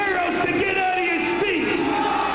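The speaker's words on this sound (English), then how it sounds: "And the crowd here wants to see it." A dense wrestling arena crowd shouts and roars in a loud unbroken wall of voices, with rising chant-like swells.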